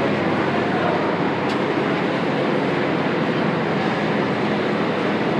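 The Mahanagar Prabhati meter-gauge train to Chittagong at Kamalapur railway station in Dhaka, heard as a loud, continuous broadband rumble and hiss with no break and no voices.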